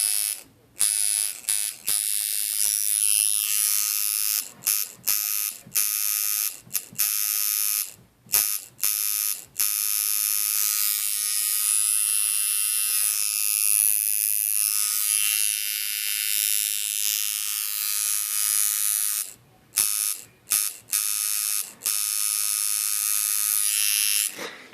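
A Unimax short stroke liner tattoo machine runs in a steady, high-pitched electric buzz, cutting on and off in short bursts and then holding for long stretches, close and alone without talk.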